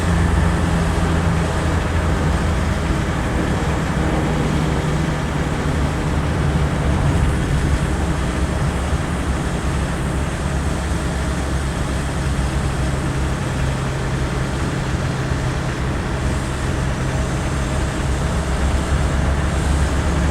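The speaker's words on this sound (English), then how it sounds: "We're in fifth gear at 30 miles an hour, and it's not hesitating to pull when it's asked to do so" Land Rover 90 fitted with a Nissan 2.8 turbo-diesel engine, driven in fifth gear at about 30 mph, a loud steady low engine drone with road and cabin rumble, continuous from inside the vehicle.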